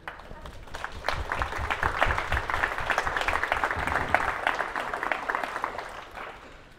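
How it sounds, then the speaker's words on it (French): An audience applauds at the art performance 'MECCNA' by Davide-Christelle Sanvee, a dense, sustained round of clapping that swells after the first second and holds steady before tapering off. "On pourrait applaudir."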